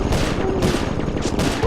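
Rapid bursts of gunfire in the video game Sly Cooper: Thieves in Time, loud dense volleys that rise and fall in quick succession and come with no talk.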